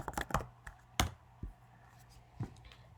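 Several light keystrokes on a computer keyboard, tapping in a short irregular burst with a louder clack near the middle, quiet and close.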